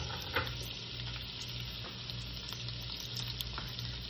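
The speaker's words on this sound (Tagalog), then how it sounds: "Mainit na yung pan natin, ilagay na natin yung garlic" Garlic frying in hot olive oil and butter in a pan, a steady close sizzle with a few faint pops and crackles throughout, no voices.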